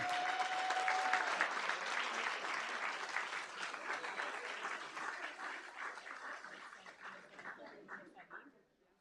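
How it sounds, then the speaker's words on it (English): At a school district board meeting, a fairly quiet round of applause for a student group rises, continues as steady mixed clapping, then thins out into scattered claps and dies away. "Let's give another big round of applause for the Fireball Falcons."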